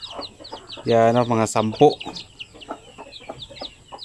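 Pure Basilan mother hen clucking near a new nest of chicks, a burst of harmonic clucks mid-clip with softer chick chirps and someone speaking around them.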